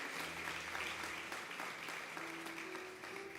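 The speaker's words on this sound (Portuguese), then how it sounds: "Quantos podem aplaudir o nome do Senhor por essa palavra nessa noite?" A church congregation applauds at an evening communion service, giving a continuous, even roar of many hands clapping at a moderate distance, while a sustained organ or keyboard note hums underneath.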